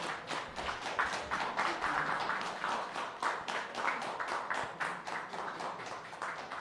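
Audience applause fills a steak cookoff eve ceremony in Korea right after a declaration is signed, a sustained burst of many hands clapping at moderate distance with a steady, dense rhythm throughout.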